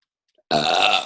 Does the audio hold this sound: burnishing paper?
no